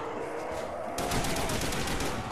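Dense, rapid bursts of gunfire from a weapon in the video game Call of Duty Black Ops Zombies, on the Der Riese map. The firing grows louder and more continuous partway through and keeps a steady crackle.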